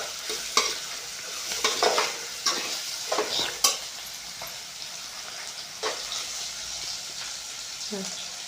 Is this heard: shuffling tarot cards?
no